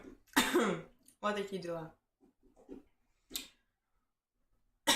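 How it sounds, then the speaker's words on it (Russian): Someone coughing and clearing their throat in a few short, close bursts between stretches of casual speech, with quiet gaps in between. "Сорян, ребят, за кашель."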